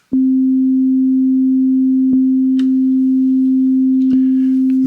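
A single sustained note from an Elektron Digitone 2 arpeggiator holds one pitch, with faint clicks marking repeated retriggers every couple of seconds; loud, clean and steady.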